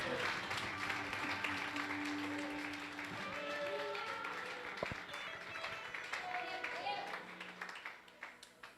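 Church congregation applause at a worship service swells from the start as sustained clapping, with musical tones and voices mixed beneath it, gradually thinning toward the end.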